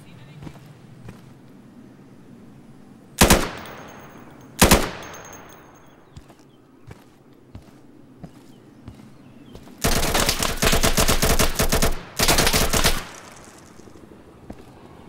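Gunfire in a tactical shooter video game, Insurgency: two sharp loud single shots, then sustained bursts of automatic fire, over quieter background sounds and scattered small clicks.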